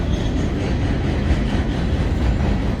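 Steady, loud rumble and clatter of a model train running along garden railway tracks beside a small garden, a continuous rolling din with no pauses and no voices.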